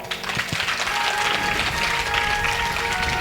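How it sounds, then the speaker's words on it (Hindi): An audience at a Bhagavat Katha religious discourse bursts into loud, dense applause that continues steadily throughout without a break. "जोरदार ताली।"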